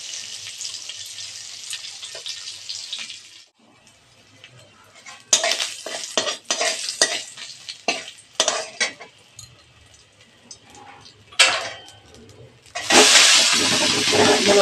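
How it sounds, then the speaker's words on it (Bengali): Radish greens stir-fried in a pan: bursts of loud hissing sizzle with clattering utensil scrapes against the pan, easing between stirs and swelling again near the end. "এবারে মূলো শাক ভাজাটা বসাবো।"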